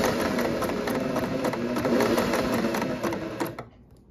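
A 1950s Singer 403A sewing machine stitching a zigzag pattern, a close, steady rapid mechanical whir with fast rhythmic needle clatter, running about three and a half seconds before stopping abruptly.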